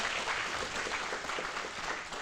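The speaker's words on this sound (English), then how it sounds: "can we please give a round of applause to our speakers?" An audience at the Expanded Horizons scholarship ceremony gives its speakers a round of applause, a steady, fairly soft wash of many hands clapping that continues for the whole stretch.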